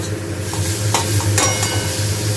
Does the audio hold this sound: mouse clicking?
no